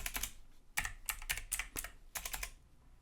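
Clicky bursts of typing on a computer keyboard as a filename is entered, several quick clusters of keystrokes with short pauses between them, close and fairly quiet with no talking.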